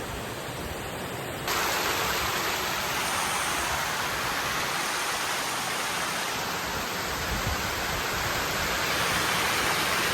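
Water flows full over a slippery spillway where fish leap, a loud, broad roaring rush that jumps up after a quieter opening second and then holds steady and close, with no voices.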